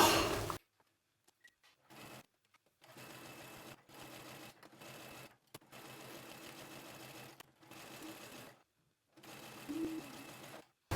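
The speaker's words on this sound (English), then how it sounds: "we are going to take it over to our sewing machine" A sewing machine stitches a hem in several bursts of rapid whirring stitches, stopping and starting with short silent pauses between runs.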